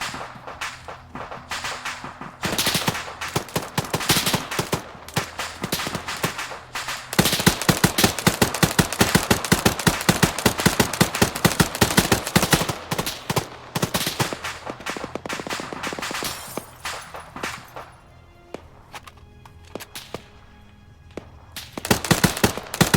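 Hip-fired gunfire in the video game Arma 3, long loud bursts of rapid automatic shots, dense and continuous through most of the stretch, thinning to sparser shots near the end.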